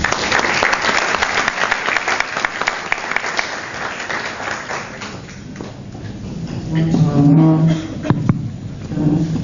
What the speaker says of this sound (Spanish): Un fuerte aplauso también para él.